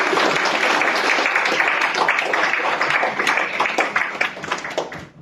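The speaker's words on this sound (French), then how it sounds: "je vous demanderai d'applaudir nos intervenants qui sont venus aujourd'hui" A conference audience applauds the invited speakers with dense, loud clapping that holds steady, then thins into scattered claps and dies away at the end.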